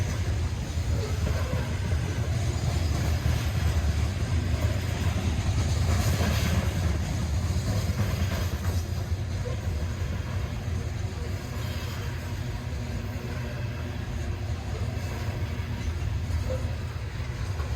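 A train rolls east along the newly restored number 1 track on an autumn excursion line, a steady low rumble and rail noise held throughout with wind buffeting the microphone.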